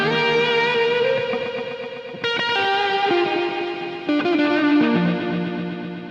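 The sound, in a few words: TOA DE-1000 vintage digital delay, high regen, space echo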